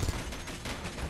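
Rapid gatling turret fire in a space video game, a dense continuous burst of gunfire at steady loudness through the whole moment.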